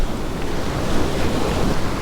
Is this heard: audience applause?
no